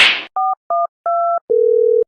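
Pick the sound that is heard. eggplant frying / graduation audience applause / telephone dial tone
telephone dial tone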